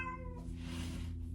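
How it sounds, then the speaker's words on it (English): A pet cat named Bella lets out one drawn-out, close meow that rises and holds briefly, sounding plaintive and clear against a quiet room. "my cats. Bella is meowing."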